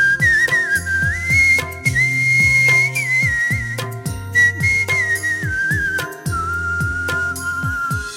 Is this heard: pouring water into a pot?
no